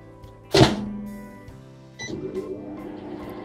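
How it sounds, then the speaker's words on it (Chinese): A microwave oven door swings shut with one sharp thunk, followed after a brief quiet by the oven starting up with a steady low hum and whirring; close by, no talking. "关上微波炉，"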